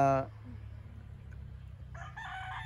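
A gamefowl rooster's crow is caught at its clipped, loud tail end. A second nearby crowing call rises near the end over a low, steady farmyard rumble.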